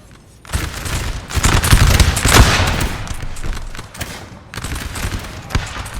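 Massed musket volleys from a Napoleonic battle in Napoleon: Total War, with Austrian and Hungarian infantry firing on French squares; dense, overlapping crackling gunfire rolls continuously at close range, swelling and easing without any talk.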